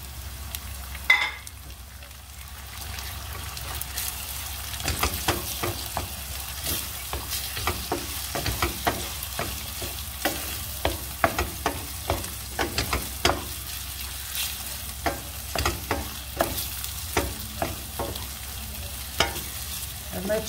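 Three eggs sizzle in a hot pan under a steady frying hiss while being stirred, with frequent sharp scraping clicks of the utensil against the pan throughout and no talking.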